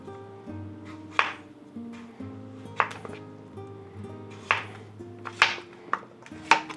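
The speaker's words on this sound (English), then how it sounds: "these squash that I'm cutting up right now, I picked them this morning" A knife cuts through fresh garden squash picked that morning, making sharp, irregular chopping clicks and clinks against a board over steady low background music, about six or seven distinct cuts spaced unevenly.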